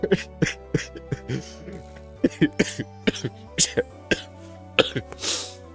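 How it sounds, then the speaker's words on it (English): Repeated dry smoker's coughs and throat clearing come in short bursts, close and fairly loud, with breathy pauses between them. "Getting this smoker cough."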